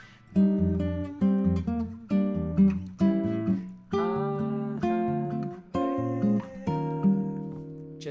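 A solo guitar plays a Brazilian-style chord melody, with plucked chords and a moving bass line in an easy, syncopated rhythm.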